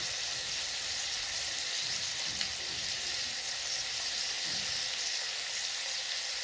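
Potato pieces frying in oil in a home kitchen pan give a steady, even sizzle and crackle that runs continuously at moderate closeness with no talking.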